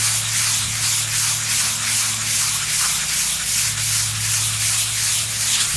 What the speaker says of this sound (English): This is just to take the rest of the clear coat residue off.